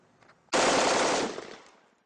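An M4 rifle fires a fast, loud automatic burst on a shooting range, close and continuous for under a second before a ringing echo fades out.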